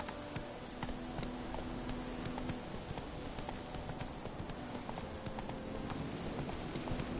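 Hooves of the horse Roach clip-clop steadily in The Witcher video game, a quiet, continuous trotting rhythm over a low background ambience.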